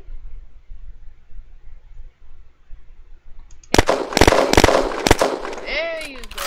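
Gunfire in the video game Red Crucible Firestorm bursts out in several sharp, loud rapid shots after a quiet stretch, with a voice speaking over the end.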